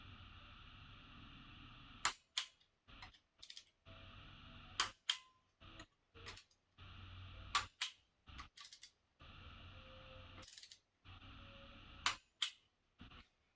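A half-inch ratchet fitted with an angular torque gauge tightens engine bolts in quiet, sharp clicking bursts, short groups of ticks separated by pauses, close and faint with nothing else around.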